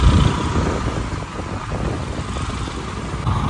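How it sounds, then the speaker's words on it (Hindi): Street traffic in the Dhauli Pyau market in Mathura on a morning: a steady, fairly loud hum of car and motorbike engines idling and passing nearby, with no break across the short stretch. "तो थोड़ा यहाँ पे ट्रैफिक है"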